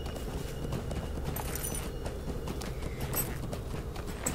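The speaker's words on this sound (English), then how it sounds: "My horse has plenty of morale left, so I'll just keep riding." Galloping horse in The Lord of the Rings Online, a continuous fast drumming of hoofbeats, loud and close, with a brief brighter burst partway through.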